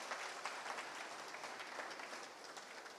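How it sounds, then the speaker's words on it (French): Steady applause from an event audience at an airline's seventh-anniversary celebration, a dense even patter of many hands clapping together, fairly faint and distant throughout with no talk over it. "Je voudrais que vous applaudissiez"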